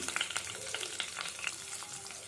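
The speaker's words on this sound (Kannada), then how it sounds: "ಸ್ಪೂನಷ್ಟು ಆಯಿಲ್ ಹಾಕ್ಕೊಂಡಿದ್ದೀನಿ ಇದಕ್ಕೆ ಫ್ರೈ ಮಾಡ್ಕೊಳ್ಳೋದಕ್ಕೆ" Cumin seeds, ginger and garlic fry in oil for palak paneer rice, giving a steady, close crackling sizzle with brisk popping spatters throughout and no talking.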